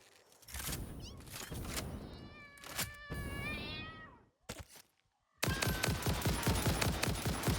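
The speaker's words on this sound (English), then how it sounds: "To be fair, there's a lot of cats!" Many cats meowing at once in the video game Satisfactory, a dense overlapping chorus of meows with bursts of rapid gunfire-like clatter, loud and continuous apart from a brief near-silent gap.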